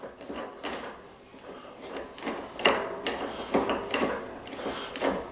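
Caster wheels are screwed into the underside of a Vevor stainless steel table, with irregular metallic clicks, clanks and rattles of parts being handled, close and moderately loud, and no speech.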